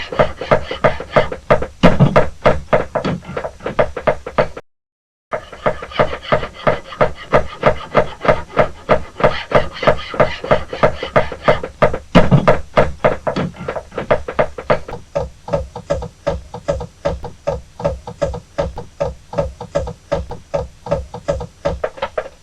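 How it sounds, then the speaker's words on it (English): Hand-cutting teeth into a steel file with a chisel and hammer on an anvil produces a long run of rapid, evenly spaced sharp strikes, close and loud, with one brief pause partway through. "guiding the chisel along the cutting band to prevent deviation"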